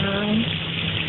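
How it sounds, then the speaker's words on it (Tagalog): A little water is poured into a cooking pan while preparing vegetarian tofu with celery, a brief steady gushing splash heard close up. "Lagyan natin ng sa unti tubig."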